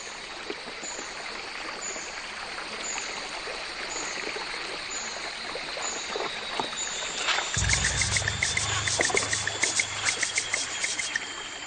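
A river runs past an old hunters' camp in a steady broadband rush, with faint chirping above; partway through, a louder low rumbling and splashing sound joins, near and continuous.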